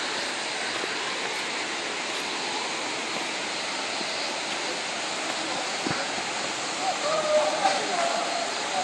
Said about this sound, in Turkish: bu nasıl bir şelaledir böyle be?